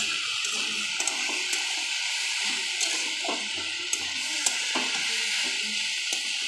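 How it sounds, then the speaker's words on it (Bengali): Potatoes fry in a pan with a dense, steady sizzle, and light clinks and scrapes of a spatula stirring recur throughout. "রাতে রুটি হয়ে গেছে, তার জন্য কি করব মনে করে একটু আলু ভাজা করতে লাগলাম।"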